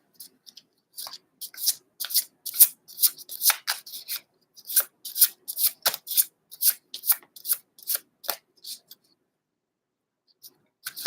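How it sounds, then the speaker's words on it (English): Tarot cards being shuffled by hand in a run of crisp, rapid riffles and rustles that come in quick bursts for about nine seconds, then trail off into quiet with a couple of faint shuffles near the end. "when I was shuffling these cards"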